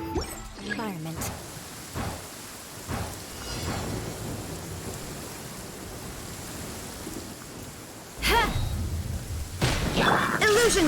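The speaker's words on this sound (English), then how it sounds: "The thunder drowns out all other sounds, hampering my perception of the surroundings." Steady rain with rolling thunder rumbles and sharp cracks in Genshin Impact, a dense continuous wash with louder bursts near the start and end, along with brief game voice lines.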